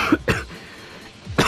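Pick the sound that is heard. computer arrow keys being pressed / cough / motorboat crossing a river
cough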